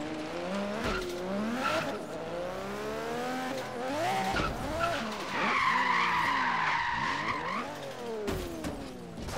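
Drifting car in the racing game Forza Horizon 3 during an online drift session: loud, sustained tire skidding and squeal over a revving engine, with the squeal strongest midway through.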